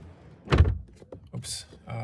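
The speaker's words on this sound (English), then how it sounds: "the doors are kind of light on the back, so a little bit more force and good closing sound" A solid rear door of a 2024 Škoda Kamiq shuts with a single heavy thunk close by, followed by faint clicks and rustling.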